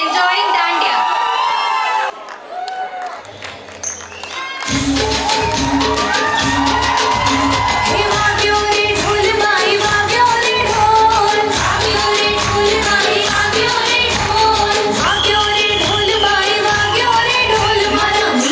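Audience at a playschool annual day cheering for little children performing a Dandiya stick dance, crowd shouts and whoops over loud festive music, with an announcer's voice briefly at the start.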